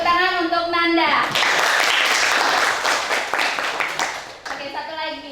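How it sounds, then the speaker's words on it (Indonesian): Classroom applause for a student named Nanda: dense clapping bursts in for about three seconds between stretches of a teacher's talk, then fades as speech resumes. "beri tepuk tangan untuk Nanda"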